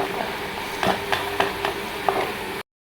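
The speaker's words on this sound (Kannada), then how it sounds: "ಸೊ ಬೋಟಿ ಹಾಕಿ ಒಂದು ಸ್ವಲ್ಪ ಸ್ಟಿರ್ ಮಾಡಬೇಕು" Boiled mutton tripe being stirred in a pan with frying ginger and garlic: a steady sizzle with a few rhythmic scraping strokes of the spoon, then it cuts off abruptly into silence.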